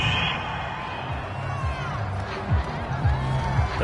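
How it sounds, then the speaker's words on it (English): A home crowd cheering in a football video game after a penalty call, a broad steady roar of the stadium audience with some game commentary-like sound mixed in beneath. "This home crowd, they're happy with that call."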